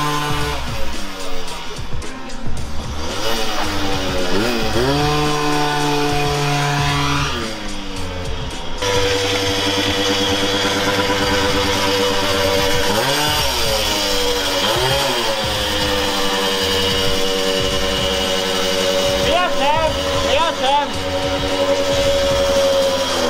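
A Puch Maxi moped fitted with a KTM SX clutch on its first test ride, its small two-stroke engine buzzing loud and close throughout, revving up and down in repeated rising sweeps.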